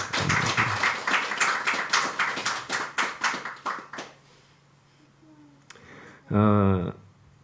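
A church congregation applauds in a rapid, even run of crisp claps for about four seconds, then falls quiet before a voice briefly rises near the end.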